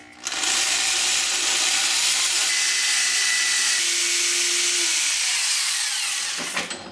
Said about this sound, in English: it won't compromise the integrity of the bolt when I drill through it